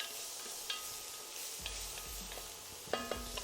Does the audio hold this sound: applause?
no